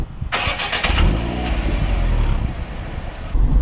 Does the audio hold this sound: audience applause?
no